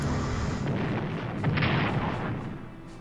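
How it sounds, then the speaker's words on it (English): Naval bombardment in the strategy game Strategic Command 1939, a dense, sustained rumble of artillery fire and explosions that swells slightly midway and stays loud throughout, with no voices. "Could I possibly bombard these guys?"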